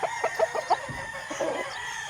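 Super Brown Red broodstag rooster on a gamefarm, clucking in short close calls, a few quick bursts over a steady background hum.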